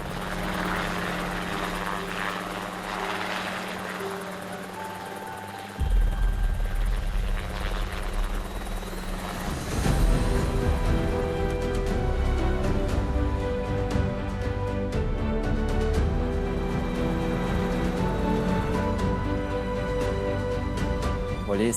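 A helicopter starting up on Réunion island, its engine whine building, then a louder thump and rising roar of turning rotors, steady and close.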